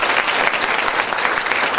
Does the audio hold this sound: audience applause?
yes